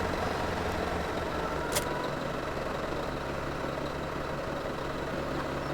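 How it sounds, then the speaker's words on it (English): A tractor engine idling, giving a steady low rumble that holds at an even level throughout with no talking. "I hooked up the tractor to it"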